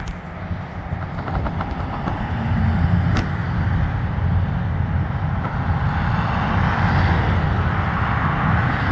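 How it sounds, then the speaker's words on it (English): Loud, continuous freeway traffic rumbles and roars steadily throughout, with no voices, as a broad wash of passing vehicles that occasionally swells. "And the freeway traffic is very loud."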